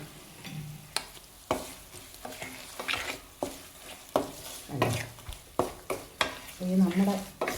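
Roasted and ground asafoetida, mustard and fenugreek powder get stirred into hot oil in a pan for a star fruit pickle, a soft sizzle under repeated scraping strokes and clinks of the spoon against the pan.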